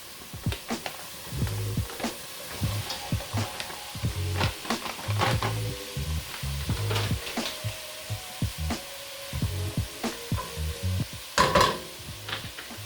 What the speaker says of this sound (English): So now we're gonna cook the onions so they're a little more see-through.